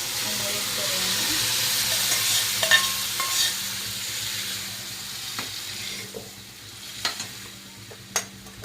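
Mung beans cooking in a pan with softened tomato and chilli, giving off a constant sizzling hiss that slowly fades, with a few sharp taps and scrapes of stirring near the end.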